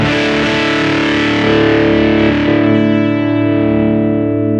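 Electric guitar through hex fuzz distortion on a Roland VG-99, GR-D or Boss GP-10 guitar synth, set so the higher strings carry more distortion, rings out loud sustained fuzzy chords with a couple of fresh strums midway, slowly fading.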